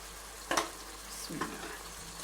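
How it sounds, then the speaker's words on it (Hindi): Masala for a potato and pea curry being stir-fried in a pan, with a low steady sizzle and a few sharp scraping stirs, moderately close with no voices. "अब हम इसको कोई 10 मिनट भूनते हैं कि मसाला अच्छे से यकजान हो जाए।"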